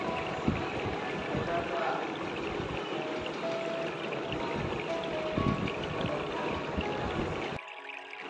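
Chicken pieces sizzling and being stirred in a pan of fried spices and chili powder, a steady close frying hiss with scraping stir strokes that stops abruptly near the end.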